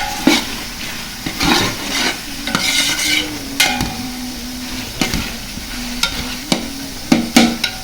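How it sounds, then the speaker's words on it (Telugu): Food frying and being stirred on a big stove during home birthday cooking, with a steady sizzle under repeated sharp scraping and clanking strokes of a utensil against the pan, close and fairly loud. "పెద్ద స్టవ్ కాబట్టి ఎమ్మటే ఫ్రై అయిపోతుంది"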